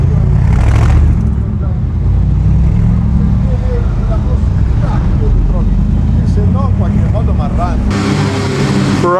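Prototype Mercedes racing cars pass during the Mille Miglia road race, a loud steady engine roar over crowd noise with voices talking, and a brighter whine rising near the end as another car approaches.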